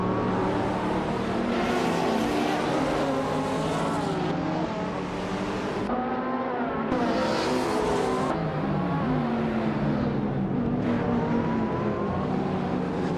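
Racing cars in a video game, among them a 2012 Ferrari California, roar off the start line together, engines revving and shifting with rising and falling pitch, loud and continuous throughout with no talking.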